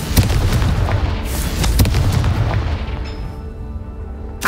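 Confringo blast spell explosions in the video game Hogwarts Legacy: several loud, booming bursts in quick succession, with a sustained rumbling game background under them and a sharp hit at the very end.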